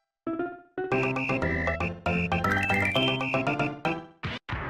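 A bright chiptune fanfare from Super Mario Kart plays for earning a free life: a quick, bouncy run of synthesized notes in short phrases, loud and alone, ending in two clipped stabs.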